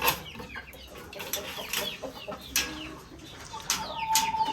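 A laying hen clucks in short, irregular calls close by, with a few sharper squawks and faint rustling or wing flaps among the farm birds around it, and no clear talking.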